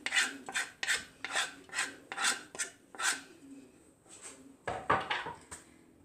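Chopped celery and parsley scraped off a board into a cocotte pot, a steady run of rhythmic rasping strokes followed by a few quicker scrapes and taps, close and quiet with no talk.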